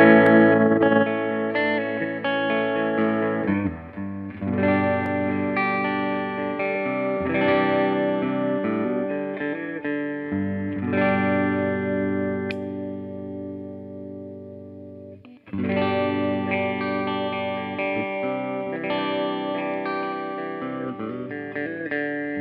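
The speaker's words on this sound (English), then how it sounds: "I'm gonna play this guitar." A 2023 Gibson SG Standard electric guitar plays ringing, sustained chords thick with distortion and effects, loud and close, with a brief break in the sound before it resumes.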